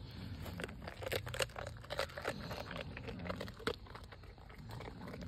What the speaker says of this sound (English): Do you like these tasty, crunchy chips?